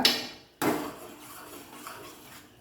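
A spoon clatters against a metal pot as vada curry is stirred, giving a sharp clink, a short pause and then a louder scrape-and-clank that fades into softer rattling, close and without talk.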